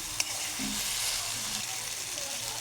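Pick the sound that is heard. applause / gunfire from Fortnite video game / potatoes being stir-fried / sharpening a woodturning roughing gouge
potatoes being stir-fried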